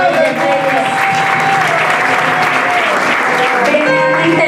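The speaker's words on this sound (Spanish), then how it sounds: "Ofrenda del palmas al Rey de Reyes." A church congregation gives an offering of applause, a dense, steady clapping that stays loud for the whole stretch, with a faint held tone running underneath.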